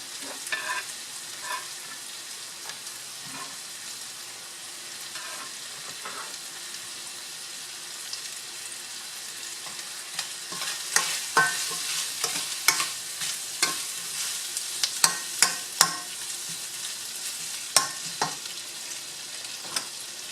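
Bell peppers sizzle steadily in a hot pan for beef with broccoli, with repeated scraping and stirring clatters growing busier toward the end, close up with no talking.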